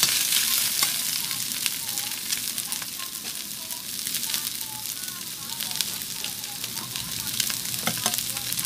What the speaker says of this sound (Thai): แล้วก็ผัดคลุกเคล้าให้เข้ากัน